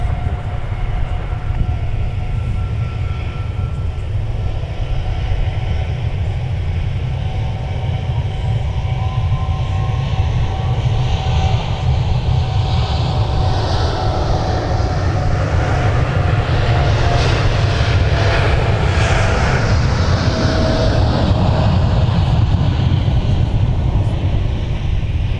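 A jet airplane taxiing at MSP airport, a steady loud engine rumble and whine that swells slightly toward the end, continuous throughout with no voices.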